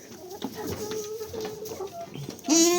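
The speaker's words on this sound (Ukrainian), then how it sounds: "Хочуть кукурікають, хочуть ні." Hens cluck and murmur close by for a few seconds, then a rooster bursts into a loud crow near the end.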